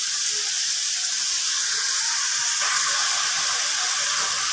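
Shapla (water lily stems) sizzling steadily in a hot pan after a pinch of salt, a constant close hiss with no talk over it.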